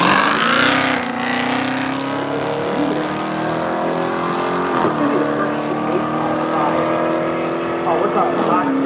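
A Dodge Challenger street car on a drag strip at BIR roll racing, engine droning loudly and rising steadily in pitch as it accelerates, a continuous close roar that sustains throughout with slight dips between gear shifts.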